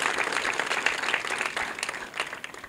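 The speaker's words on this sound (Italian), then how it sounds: "Io gradirei che facessimo un applauso a questi operatori" Dense, steady applause from an audience at a public meeting about cuts to local health services, sustained loudly for about three seconds with no pauses.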